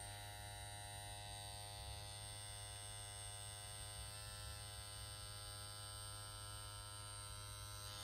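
A Big Wasp rotary pen tattoo machine running at 8 volts, producing a steady, quiet, smooth electric hum that stays constant and unbroken throughout, with no voices.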